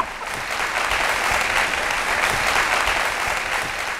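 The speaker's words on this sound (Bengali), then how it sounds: "আপনারা একটা হাততালি দেন" Studio audience applauding at a Bangladeshi TV comedy show, a steady dense clapping that fills the whole stretch at even loudness, with no voices over it.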